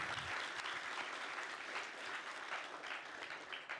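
Audience at a PyCon Sweden lightning talks session applauding the event sponsors, a steady dense wash of clapping from a crowd that holds evenly for the whole stretch with no voices.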